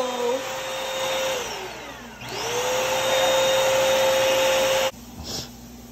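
A Bissell CrossWave floor cleaner runs loud and steady with a whining motor tone, spins down briefly around two seconds, ramps back up, then cuts off near the end, leaving a faint brief rustle.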